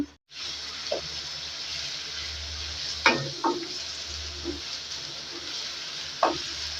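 Onions browning in a pan, a continuous bright sizzle with occasional scraping and clinking of a stirring spoon at intervals, close and steady with no talk.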